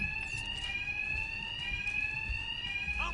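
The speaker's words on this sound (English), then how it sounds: "The attacks will be covered by the noise of the alarm." An alarm in Batman Arkham Knight blares continuously, a steady high electronic tone held over faint game ambience with no voices.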